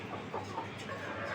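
Egg-laying hens in a cage give soft, brief clucks, faint and a little distant over a low background hum.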